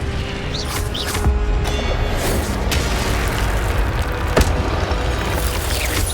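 A fire spell cast in the game Hogwarts Legacy fills the clip with loud, dense roaring and whooshing, a continuous blaze of noise punctuated by a couple of sharp bursts.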